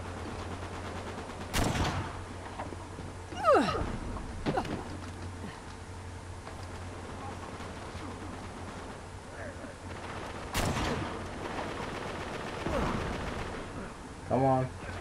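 Scattered gunshots in Uncharted 3 multiplayer, a few separate sharp bangs spaced several seconds apart amid quieter game ambience and a faint voice, fairly distant and low in level.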